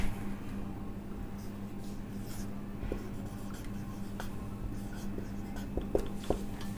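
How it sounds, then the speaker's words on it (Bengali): Chalk or marker scratching across a classroom board during a chemistry lecture, a steady soft scraping with a few sharper taps near the end, over a low room hum. "এরপর লিখবো আবার"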